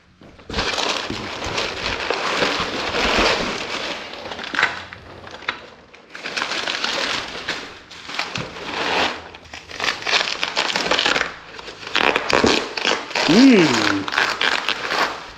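Packaging around JC Racing sponsons for a Kawasaki SXR 1500 stand-up jet ski is cut and torn open. There are close crinkling, scraping and ripping bursts with short pauses between them, and a voice speaks briefly during the handling.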